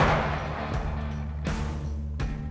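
A rifle shot cracks out loud and close at the start during a whitetail deer hunt on a Texas ranch, decaying into a rumbling tail, followed by a couple of softer, duller bursts.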